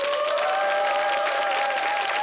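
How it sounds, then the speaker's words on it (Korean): Studio audience on a Korean KBS TV panel show claps in a steady, dense burst of applause, with a few sustained tones running through the noise. "박수 보내주세요."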